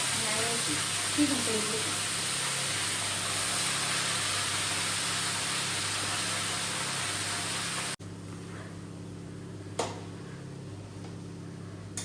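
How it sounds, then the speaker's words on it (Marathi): Steady, dense sizzling of greens frying in a hot pan, continuing evenly for several seconds before dropping to a quieter hiss. "आता भाजीला जरा मम्मीनी परतून दिली आहे"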